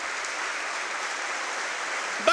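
Parliamentary chamber applause for former presidents, a broad, even wash of many hands clapping that sustains at a steady level throughout, heard from a slight distance without speech over it.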